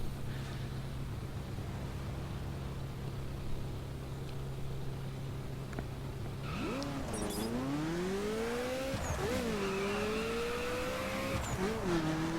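A Ferrari F40 engine in The Crew video game idles with a steady drone, then revs up hard through several gear changes, each upshift dropping the pitch before it climbs again, loud and close.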